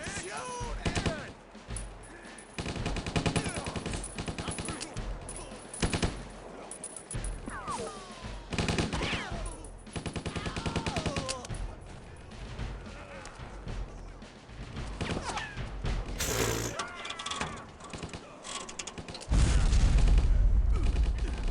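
Gunfire in the video game Stubbs the Zombie, bursts of loud shooting and crashes over game noise and music, with a heavy booming blast at the end.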